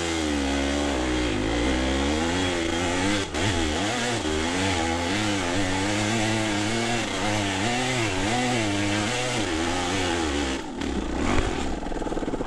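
A Kawasaki KDX200 two-stroke trail bike engine idles and blips close by with a raspy, buzzing drone, its pitch rising and falling through repeated revs on a wooded hill-climb trail.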